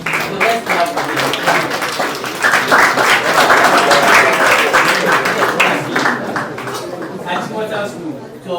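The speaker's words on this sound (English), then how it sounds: "So let's clap for them." An audience applauds a school quiz contest team at a science and maths quiz trial, loud dense clapping sustained throughout with crowd chatter mixed in.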